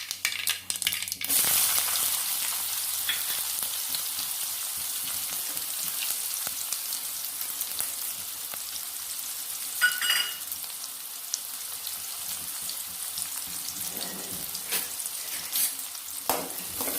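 Onions frying in a pan for a moong dal and spinach sambar, a bright steady sizzle with a clatter of stirring near the start and occasional scrapes and clinks, close by.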